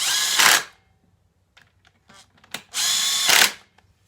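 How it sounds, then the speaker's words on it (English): A Makita impact driver removing engine case bolts on a 2009-2011 Honda CRF450 fires two short, loud hammering bursts about three seconds apart, with quiet clicks and handling noises between them. "Makita makes great impacts."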